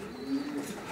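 Racing pigeons cooing inside a loft: a soft, low coo rises briefly at mid-range amid a quiet background hum, close but faint, with no talking.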